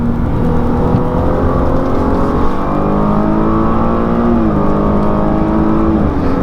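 A 2020 Cadillac XT6 Platinum AWD engine pulls hard after a paddle shift into third, its loud, steady drone climbing in pitch and dipping briefly at a gear change before rising again.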